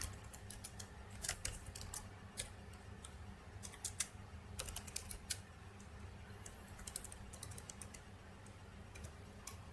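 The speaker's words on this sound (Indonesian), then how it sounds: "Kemudian kita input, misalnya Charles." Typing on a computer keyboard: soft, close keystroke clicks arrive in irregular bursts over a quiet background, with brief pauses between runs of keys.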